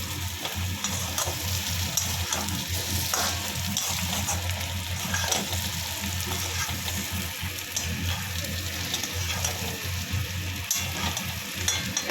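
Eggplant fries in hot oil in a pan for a hilsa fish curry with potato, making a low, steady sizzle with wet bubbling and faint stirring noises, with no voices.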